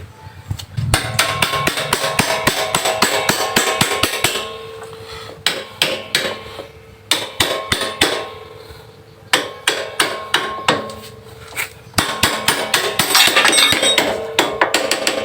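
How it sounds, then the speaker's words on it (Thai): A hammer pounds metal while a Honda Scoopy-i scooter engine is being fitted. Rapid runs of close, loud, ringing strikes with metallic clinks come in several bursts, separated by short quiet pauses. "หาค้อนตอกได้เลย"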